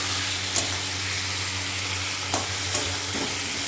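Spices frying in oil with fried pointed gourd and potato, a steady close sizzle with a few light clinks of a spatula stirring the pan.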